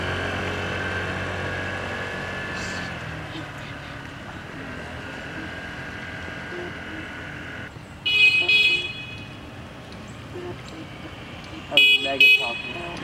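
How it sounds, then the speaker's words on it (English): A vehicle horn sounds in two short bursts of honks several seconds apart, loud and close, after a stretch of low engine hum and voices in the background. "She keep honking it."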